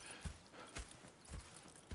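Horse hooves clip-clop in the video game Red Dead Redemption, a few soft, low thuds spaced across two seconds, quiet and close with no talking over them.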